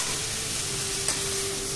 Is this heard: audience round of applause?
no